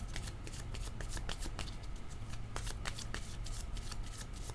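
Tarot cards are shuffled by hand in quick, rhythmic riffling bursts, close and fairly quiet, with no voice over them.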